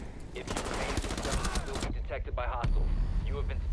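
Dense bursts of rapid gunfire in Tom Clancy's Rainbow Six Siege, loud and close for about two seconds, followed by quieter game effects while a voice talks over them.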